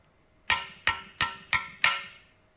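Five evenly spaced sharp taps from a hammer or drift seating a small aluminium part back into a Mercedes 722.3 automatic transmission housing against a hardened steel pin, each strike ringing briefly, close and moderately loud.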